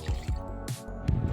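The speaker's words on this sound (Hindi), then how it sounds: "सबसे पहले मैं इसके अंदर थोड़ा ठंडा पानी मिक्स कर देती हूँ।" Cold water goes into cream in a bowl for homemade ghee, giving close, wet drips and squishy splashes in quick succession over just over a second.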